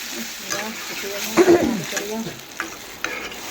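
Water poured into a pan of frying potatoes for a light curry sets off a sudden hiss and bubbling sizzle, rising sharply for a moment before settling into a quieter simmer, with someone speaking around it.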